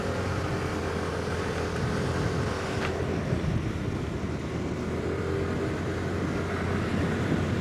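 A 2025 TVS Jupiter 125 scooter accelerates up a flyover toward 5000 RPM, its engine a steady droning hum under heavy rushing wind noise throughout.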